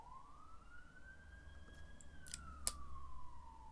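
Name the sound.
police siren passing outside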